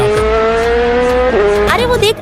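Cartoon superbike racing in an animated Spider-Man short, a loud sustained engine whine that rises and bends in pitch, ending in a brief tire squeal.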